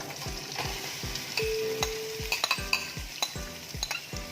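Three thinly sliced onions sizzle and fry in butter in a pan, a steady crackling hiss broken by regular, rhythmic scrapes of a spoon stirring them, close and clear with no talking.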